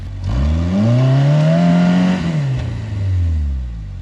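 A Toyota rock buggy's engine revs hard under throttle, rising and holding a strained, droning pitch before easing off and climbing again, loud and close with no talk.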